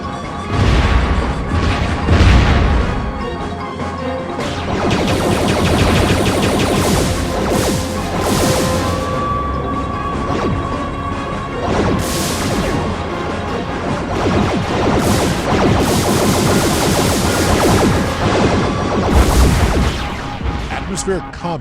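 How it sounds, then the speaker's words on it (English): Torpedo explosions in the space combat video game Star Trek: Invasion, with loud repeated booms and crashing blasts over a dense, constant battle din, and a voice talking at times. "Incoming torpedo."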